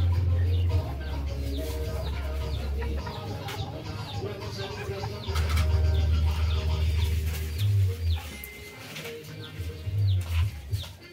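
Domestic poultry on a Nicaraguan homestead, a large male duck chosen for soup, with clucking and crowing from fowl nearby, steady low hum and scattered bird calls throughout, no speech.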